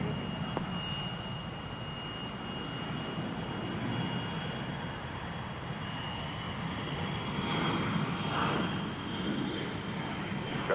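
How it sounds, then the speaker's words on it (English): An Embraer E-175 jet departs from Boise's runway 10 left, its engines a steady, broad roar that holds level throughout and swells slightly near the end. "Here's our E-175 departing for Burbank."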